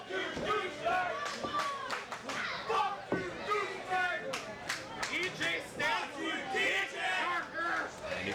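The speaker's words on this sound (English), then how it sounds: "And you can hear the crowd" A crowd at a bloody wrestling event cheering and shouting, a dense roar of many voices with yells and scattered claps, rising and falling throughout, with a commentator talking over it.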